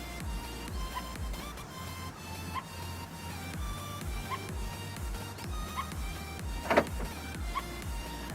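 Maruti Ciaz with a smart key relocks itself automatically: a faint, steady motorised whir continues throughout, with a brief click near the end, in a quiet setting.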